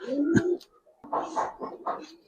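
A Giribaz pigeon gives a deep rolling coo, then three more throaty coos in a row after a short pause, close and clear.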